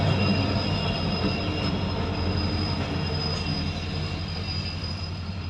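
A passenger train on the Tinsukia to Jorhat route in Assam rolls past close by with a steady, loud rumble and a thin, continuous wheel squeal riding above it, with no talk.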